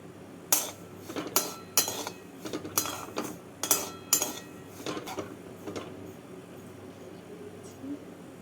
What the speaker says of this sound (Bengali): সুজিটাকে দিয়ে গরম কড়াইতে নাড়াচাড়া করে নামিয়ে নেবো